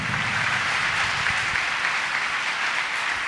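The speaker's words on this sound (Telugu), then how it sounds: "చప్పట్లు కొడుతూ ప్రభు నామమున స్తుతి బట్టి" Congregation clapping together during praise at a Sunday church service, a steady dense wash of applause filling the whole stretch at a constant level, with no voices standing out.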